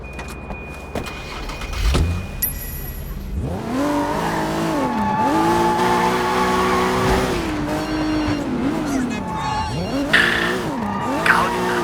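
A car is driven hard in the open-world game Sleeping Dogs, its engine revving up and down through shifts while tyres squeal and skid, loud and close, with a few sharp knocks toward the end.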